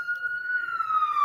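A police siren wails outside in one long, slowly falling tone, steady and moderately loud, with room noise behind it.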